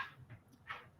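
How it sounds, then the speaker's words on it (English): A pet dog whimpers and cries in soft, faint, high whines, several short plaintive bursts in quick succession. "that's my dog crying like a little baby"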